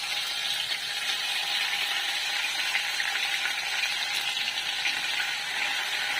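Ginger, chili and garlic paste sautés in hot oil with a pinch of asafoetida for spicy pav bhaji, making a dense, continuous crackling sizzle that holds steady and close throughout with no talking.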